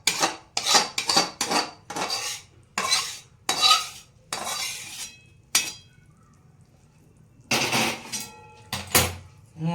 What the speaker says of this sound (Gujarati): હવે આપણે સાયતાની મદદથી ધીરે ધીરે બધું મિક્સ કરી દઈશું.